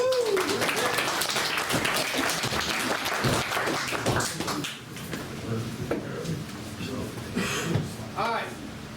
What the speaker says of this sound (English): Everybody give them a hand of applause.